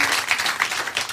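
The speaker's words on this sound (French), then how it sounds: "On l'applaudit encore." Live audience clapping at a podcast recording, a dense, steady patter of hands throughout, fairly close and continuous with no break.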